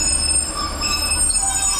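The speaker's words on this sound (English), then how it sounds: "the West Midlands Railway 323 pulls in" A West Midlands Railway Class 323 electric train pulls into Bolton station, its wheels squealing loudly with high sustained tones over a rolling rumble, ending abruptly.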